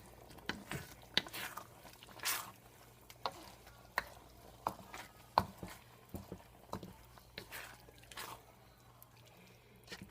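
Macaroni and cheeseburger mixture with cheese sauce stirred in a pan off the heat, with soft irregular scraping and squishing strokes, quiet and close, with no talking.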